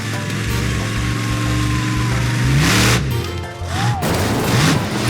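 A heavy monster truck's engine revs loudly and roars, then crashes down onto cars with a metallic crunch and booming impacts, all close and intense.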